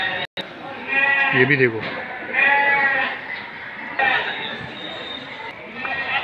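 A Sindhi goat bleats repeatedly at a busy livestock market, its wavering calls close and loud amid crowd noise while someone talks nearby.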